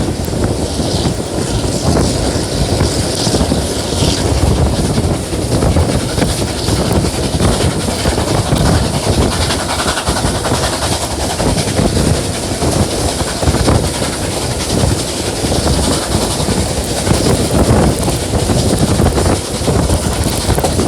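Loud, continuous rumble and clatter of a moving overnight passenger train between Southern Cross and Wycheproof, with steady wind buffeting throughout and no voices.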